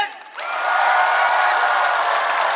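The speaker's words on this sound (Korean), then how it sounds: "그럼 한번 힘찬 박수 함성 해볼까요?" Festival crowd at an outdoor trot concert bursts into loud clapping and cheering after a brief quiet moment, holding steady and full for the rest of the clip.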